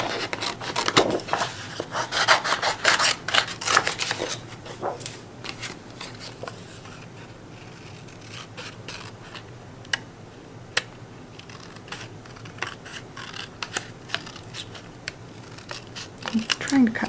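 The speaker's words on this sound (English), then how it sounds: "I'm going to use my scissors for this" Close-up snipping and rustling of scissors cutting paper in short irregular bursts, with occasional paper handling sounds and no steady rhythm.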